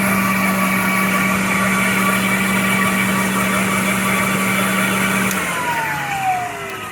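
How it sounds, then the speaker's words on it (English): A Rexair Rainbow Model C vacuum cleaner runs with water in its tall 4-quart basin, giving a steady loud motor whine with a low burble that keeps going before the pitch starts to drop as it winds down near the end. "These always have a pleasant little burble to them when you run them with water."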